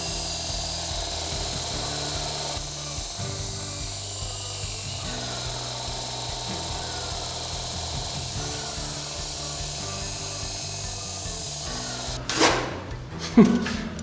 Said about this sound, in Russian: лезвие у меня туповато, и оно последнее. Попробуем его наточить.